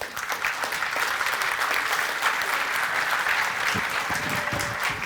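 An audience gives Jérôme a dense, steady round of applause after a keynote, with many hands clapping continuously at an even level from start to finish.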